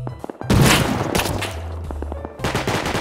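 Gunfire in the survival video game Rust: a loud burst of shots followed by rapid repeated gunshots and sharp impacts, close and dense, with a short pause before another flurry.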